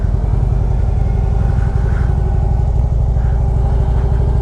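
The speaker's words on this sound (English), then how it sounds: "Dragging pegs on a KLR 650." A Kawasaki KLR 650 single-cylinder motorcycle riding through southeast Portland, its engine thumping loudly and steadily at close range, with no distinct scrape of foot pegs standing out above the engine.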